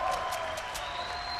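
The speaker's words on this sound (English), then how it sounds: "We got a round of applause here, though, for Nick Merckx and Aiden." Audience applause at a Fortnite TwitchCon grand final, a brief burst of crowd clapping with a few sharp peaks that fades under the hall's ambience.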